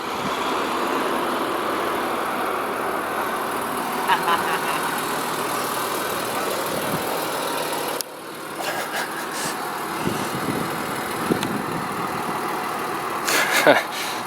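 A car engine idles at a Statoil petrol station with a steady low hum. The sound drops abruptly partway through, then continues with faint clicks and bumps nearby, and voices can be heard faintly.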